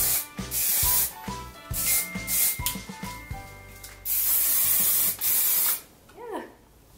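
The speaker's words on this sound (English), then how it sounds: "And then I spray a little bit more." Hairspray is sprayed onto loose, messy curls on short hair in several close, loud hissing bursts of varying length, with soft brushing between them and a brief tonal swoop at the end.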